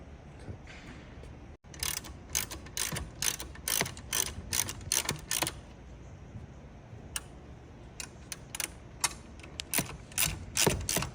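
A 10mm socket ratchet loosens the top shock bolt on a motorcycle, giving repeated quick bursts of sharp, close pawl clicks with short pauses between strokes.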